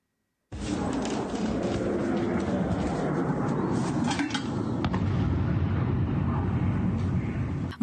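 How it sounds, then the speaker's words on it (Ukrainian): Heavy, rumbling booms and crackling blasts from explosions at a factory in Russia at night roll on continuously, loud and dense, with sharp bursts breaking through a steady roar. "фільмують спалахи та гучні вибухи посеред ночі"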